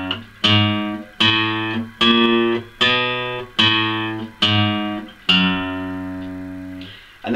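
Clean guitar plays the third phrase of a 12-bar exercise as a slow run of picked notes, about eight evenly spaced plucks that each ring and decay, with the last note held longer, alone and close.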